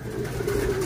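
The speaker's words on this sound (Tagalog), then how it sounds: "Eto na guys, yung first bird natin." A returning racing pigeon, a dirty blue bar, arrives at its home loft after a 140 km training race from Plaridel, Quezon, with a close, steady low cooing over outdoor background noise.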